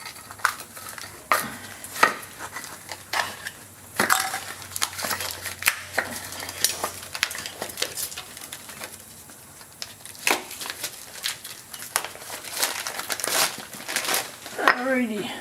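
New trailer brake pads in sealed packaging are cut open up close, with repeated crinkling and crackling plastic, sharp snips and rustles in irregular bursts, while a person talks now and then.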